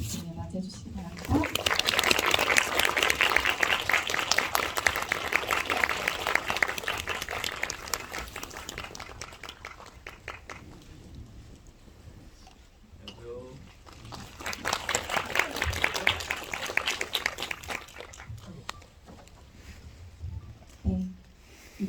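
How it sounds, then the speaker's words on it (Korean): A cinema audience applauds in two long waves of dense clapping as the director and actor are welcomed at an Indiespace screening talk, with a quieter lull between the waves and voices talking in it. "큰 박수로 두 분을 맞이해 주시기 바랍니다."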